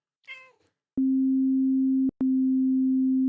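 Two steady, low pure tones differing slightly in pitch, each lasting about a second, separated by a very short gap, with a brief meow-like cry just before the first.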